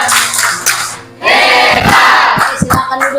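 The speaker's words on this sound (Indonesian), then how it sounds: "Kasih tepuk tangan." A classroom audience reacts after a group presentation with a loud, close burst of cheering and shouting mixed with scattered sharp claps, following a brief quieter moment.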